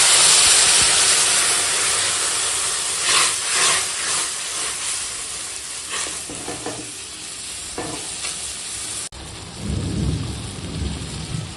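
Water is poured onto hot roasted semolina in a pan, giving a loud, hissing sizzle that dies down in bursts, followed by some stirring and bubbling.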